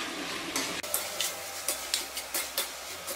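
Tomato rice being stirred in a pan after salt goes in, a run of regular scraping strokes roughly every third of a second over a soft background hiss, close up.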